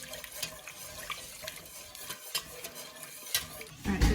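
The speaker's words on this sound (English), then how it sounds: "ideally you want to stir it at the same time as pouring in" A utensil stirs a cooking mixture while milk is poured in, with soft scraping and clinking against the pot and a gentle liquid wash throughout, close by.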